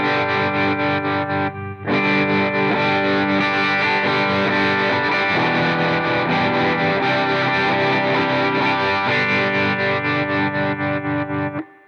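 Distorted electric guitar holds sustained chords through a tremolo effect pedal, the tone pulsing and wavering with a brief gap near the start.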